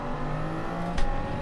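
Race car engine in a racing video game at Spa, a steady close engine drone that picks up as the car accelerates, with a brief sharp burst near the end.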